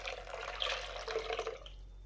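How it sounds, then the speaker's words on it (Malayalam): Water from a rinsed mixer jar pours into a clay pot of fish curry masala as a soft, quiet trickle and splash lasting about two seconds. "നമ്മൾക്ക് ആവശ്യമായ വെള്ളം കൂടെ അതിലേക്കൊന്ന് ഒഴിച്ചു കൊടുക്കാം"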